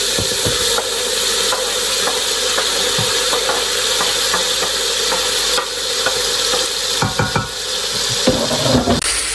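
Chicken with ginger and garlic sizzles steadily in a pan while oats with chicken are cooked, with a loud continuous hiss and scattered scraping clicks from stirring throughout.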